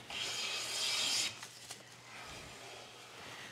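A Caliastro No. 5 bench plane with a dulling blade shaves hard wood, giving a rough rasping stroke that fades into quieter scraping, faint and close by with no voices.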